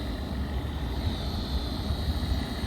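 A MasterCool MCP15 evaporative cooler pump spins with a steady low hum and whir, a constant tone sitting alone at moderate level for a few seconds.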